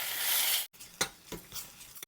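A hot pan sizzles loudly as water is added to beef for Thai nam tok, then cuts out, followed by quieter scraping and stirring sounds with a few brief clanks.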